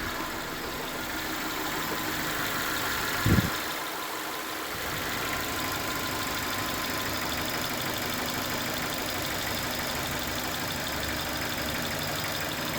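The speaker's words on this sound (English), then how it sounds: "Now I can hear that idle valve opening." A Toyota idle air control valve on a small car engine, a steady low idle hum with one brief sharp transient as the valve opens, then the idle continues evenly.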